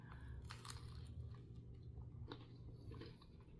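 Crunchy Cheez-It-style pizza crust being chewed up close, a steady run of crisp crunching bites over about four seconds, fairly quiet and without talk.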